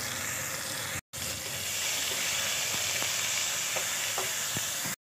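Chopped tomato with turmeric powder and salt sizzles and fries in a pan, a close, steady hiss broken by a few soft stirring scrapes and two brief cut-outs.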